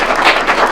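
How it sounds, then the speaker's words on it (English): Applause from the audience at a Windsor food and fuel bank awards event, a short dense burst of clapping that stays steady and fairly loud throughout with no voices over it. "So please give them a round of applause for all that"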